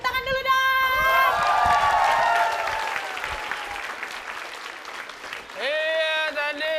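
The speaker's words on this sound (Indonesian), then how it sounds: "Tepuk tangan dulu dong." A television comedy show audience applauding and cheering just before a contest winner is announced; loud, dense clapping with some shouts swells early, then fades while tonal music and voices run across the clip.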